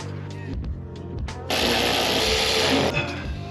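Ratchet wrench removing a bolt during a fuel pump swap on a 1988 Honda CRX Si, heard as a few short clicks and then a steady, close, loud burst of ratcheting lasting over a second, with no talk.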